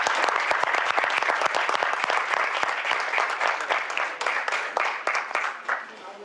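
Conference audience applauding steadily in a hall, a dense wash of many hands clapping that carries on for several seconds and gradually thins toward the end.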